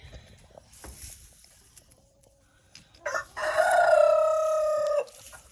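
A backyard chicken gives a few soft clucks, then a loud, drawn-out crowing call lasting nearly two seconds, close by with no talking.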